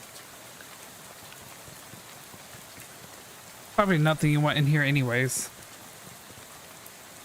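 Rain falls steadily in the video game Shadows over Loathing as a soft, even patter that runs throughout, with a voice speaking briefly over it midway.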